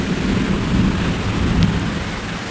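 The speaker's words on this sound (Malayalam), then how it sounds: "നല്ല ഇടി പൊട്ടുന്നു, നല്ല മഴ കേട്ടോ." Heavy rain pours steadily in a hot-weather downpour, with a deep continuous rumble of thunder running underneath the whole stretch, loud and close.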